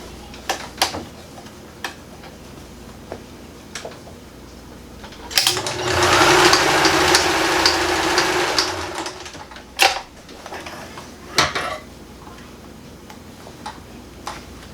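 A sewing machine stitches a strap onto a denim sling purse made from recycled jeans, running in one steady burst of about three seconds, with scattered clicks and handling knocks before and after.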